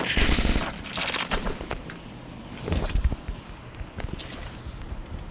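Rapid automatic gunfire rings out in the Free Fire video game, loud bursts at the start, then scattered shots and shorter volleys; no one speaks.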